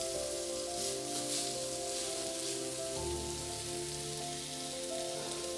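Steaks hitting a hot, lightly smoking pan set up a continuous close sizzle, a fine crackling hiss with a faint steady hum running beneath it and no talk.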